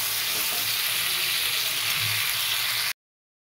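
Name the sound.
fried cauliflower and potato sautéed with spices in oil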